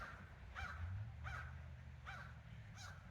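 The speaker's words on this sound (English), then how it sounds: "Mr. Crow sees me and he don't like me. He's trying to tell everybody I'm here." A crow caws four times at a steady, spaced rhythm, each call harsh and somewhat distant and faint over a low background rumble, with no talking.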